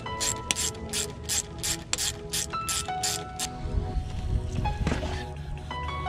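A hand ratchet clicks in quick, close bursts while loosening a 10 mm bolt on a Mazda Miata alternator, followed by softer metallic handling noises.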